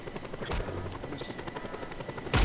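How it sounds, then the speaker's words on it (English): Helicopter in the video game Just Cause 2, a steady rotor drone running continuously through the clip, moderately loud, with a brief louder burst at the end. "There's a helicopter."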